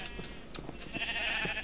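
Sheep in the Minecraft video game bleat in short, soft, repeated calls, faint and alone against a low background hum.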